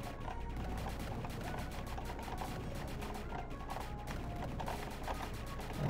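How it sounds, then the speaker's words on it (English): Enemies in a bullet hell video game fire bombs in a steady, dense barrage of crackling, overlapping blasts and gunfire-like bursts, loud and continuous for about six seconds. "So those guys shoot bombs."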